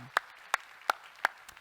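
A church congregation at a Christmas service gives a few sharp hand claps, four evenly spaced and fairly quiet, with no talking.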